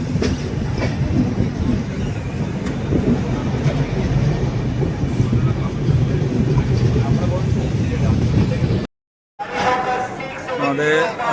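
Inside the Kumbha Express as it pulls into Asansol Junction, a steady low rumble of wheels and carriages with rhythmic clatter fills most of the stretch. After a short silent cut, station announcements and voices follow.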